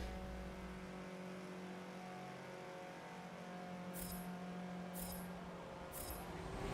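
Steady engine drone from a racing video game car, holding a low hum with layered tones throughout, with three brief bright bursts near the end.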